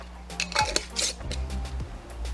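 Filipino vinegar dipping sauce being mixed in a bowl, a few close clinks and scrapes of a utensil against the dish, with faint low voices in the background.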